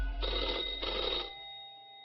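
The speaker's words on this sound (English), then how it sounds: "The old-fashioned phone again rings right as you settle in." An old-fashioned telephone bell in an office rings in two long, loud bursts close by, then fades out with a short ringing decay.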